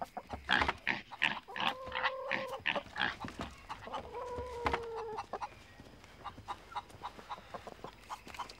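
Chickens and a rooster cluck and call on a farm, repeated bursts of clucking with two longer crowing or squawking calls in the middle, fairly close, with other farmyard animal sounds mixed in.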